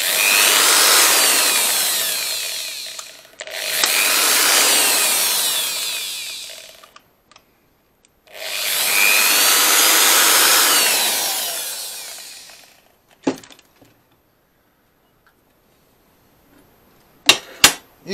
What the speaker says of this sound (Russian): куда пойдет сверло